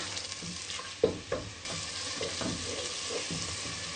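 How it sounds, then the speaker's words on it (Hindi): Ground mustard greens for sarson ka saag being stirred and fried in masala, a loud close sizzle broken by several sharp spoon knocks and scrapes against the pan. "अब हमने जो साग हमने ग्राइंड करके रखा हो ये डालेंगे। बहुत अच्छे तरीके से हम इसको मिक्स करेंगे।"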